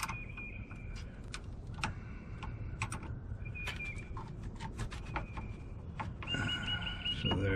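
A ratchet with a 10mm socket loosens the negative battery cable on a 2011 Toyota RAV4, giving quick light clicking bursts, close and fairly soft against a low background hum, with no talk.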